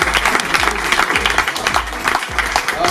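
Audience at a Wednesday evening church event about prison ministry claps loudly and briskly over a thumping jingle with a heavy repeating beat, the applause and music filling the short clip.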